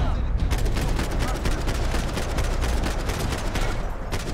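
Rapid, sustained gunfire from a Max Payne 3 gunfight, a dense fusillade of shots running the whole clip at steady loudness, with a faint voice briefly underneath.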